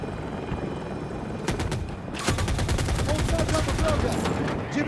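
Helicopter rotor thrum in the Battlefield 2042 video game, a loud steady drone overlaid with bursts of rapid gunfire and in-game battle noise.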